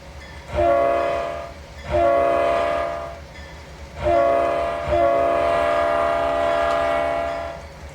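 A freight train horn in the Trainz 22 railway simulator sounds in four long, loud blasts with short gaps between them, over a steady low rumble of the passing train.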